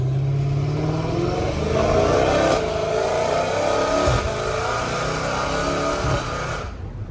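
A Dodge Hellcat Redeye with its 850 hp engine revs loudly and continuously, recorded from inside the car, with deep surges and a brief drop near the end.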